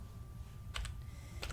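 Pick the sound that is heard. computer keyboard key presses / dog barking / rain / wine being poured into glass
computer keyboard key presses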